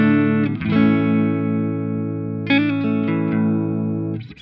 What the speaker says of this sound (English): that's going through both of these pedals into a Marshall SV20H, which is a plexi style amp and sounds something like this